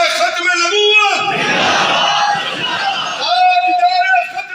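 A crowd at a religious conference loudly chants the reply to a slogan, many voices merging into a single sustained shout, followed by a lone voice calling out.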